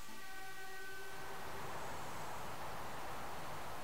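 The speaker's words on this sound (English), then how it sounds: "Here comes the train." A bullet train in a Sonic video game sweeps in with a steady broadband rush of motion noise, a brief horn-like tone sounding at the start before the roar swells and holds.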